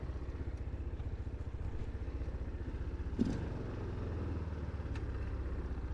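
A used ATV four-wheeler engine idles and runs steadily close by, an even pulsing putter with one short clank partway through.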